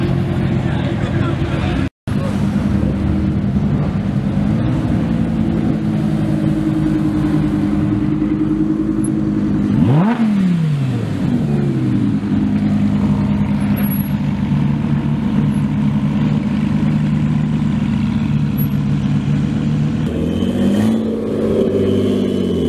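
Mazda Miata with a rear wing and aftermarket wheels, engine running steadily at idle with a rev rising and falling midway, near and loud, mixed with other car noise at an outdoor car meet.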